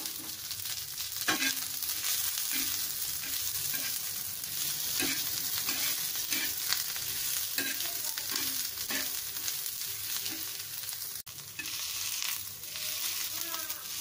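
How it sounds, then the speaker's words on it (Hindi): Onions frying in a pan, a dense, steady sizzle running throughout with regular scraping stirs every second or so, close and even in level, with no speech. "छान फ्राय करून घेऊया"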